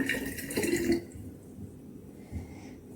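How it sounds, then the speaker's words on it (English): Water poured from a cup into the tank of a Morphy Richards New Europa espresso machine, a short close splashing trickle lasting about a second before fading to quiet. "So I'll pour whole water over here."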